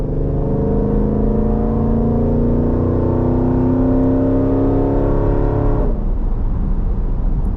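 A 2020 Jeep SRT V8 accelerates hard on the road, its engine note rising steadily and loud for several seconds before the throttle lifts abruptly and the sound falls to a rolling rumble.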